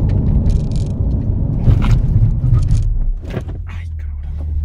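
A Chevrolet Corvette Stingray C8 braking hard from 60 mph to a stop, heard from inside as a steady low road and engine rumble that swells, then settles into a lower drone as the car slows, with a few faint mechanical clicks.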